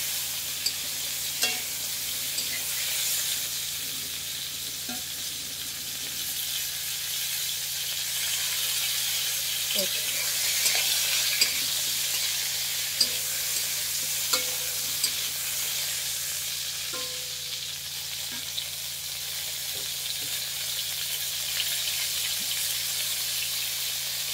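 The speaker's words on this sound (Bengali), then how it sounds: "আলুগুলো ভাজা হয়েছে কিন্তু পটলগুলোর গায়ে ঠিক লাগছে না বা ভাজা ঠিক হচ্ছে না" Potatoes and pointed gourd frying in a pan, giving a continuous bright sizzle with small scattered pops throughout, close and steady, with no voices.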